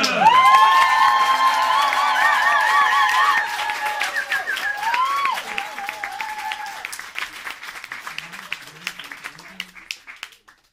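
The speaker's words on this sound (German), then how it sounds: "Gib bitte einen 12-Punkte-Applaus für David Neite!" A poetry slam audience applauds and cheers loudly, with whistles and shouts at first, then the clapping thins out and fades over several seconds.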